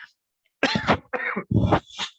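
A short burst of several harsh, close coughs, separated by brief pauses, with no talking.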